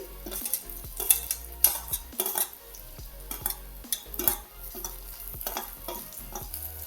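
Matki bhaji with coconut, garlic, curry leaves and tomato stirred in a pan, with repeated scraping strokes and clinks of a spoon against metal over a steady frying sizzle, close and fairly loud, no voices.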